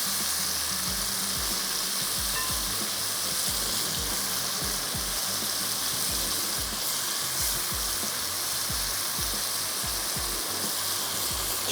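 Pre-boiled mutton sizzles steadily in hot oil for a makhni mutton dish, a loud continuous frying hiss with faint stirring scrapes and no talking.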